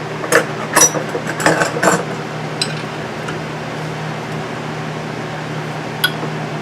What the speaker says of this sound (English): Here's a big C-clamp. Give it a nice crank.